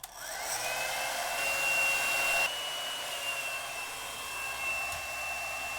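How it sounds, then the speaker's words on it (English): A hair dryer blows steadily at close range onto a computer mouse, a smooth continuous whoosh with a faint high whine, louder for the first couple of seconds and then settling to a slightly softer even rush. "Can you blow a hairdryer at it?"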